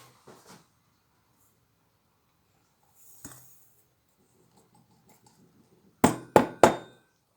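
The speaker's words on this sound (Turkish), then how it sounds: "Şöyle tavladığımı panın içine döküyorum arkadaşlar." Annealed metal pieces, fresh from an acid bath, are poured into a pan. A faint clatter comes first, then three loud, sharp metallic clinks in quick succession near the end.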